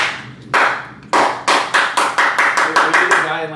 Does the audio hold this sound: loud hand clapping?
yes